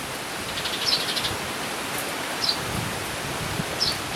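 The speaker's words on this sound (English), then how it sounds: "So it's kind of a chattering." Tiny sparrow-like birds chatter overhead on an early morning walk across a rural property, giving three short, faint chirps spaced apart over a steady wash of wind and rustling.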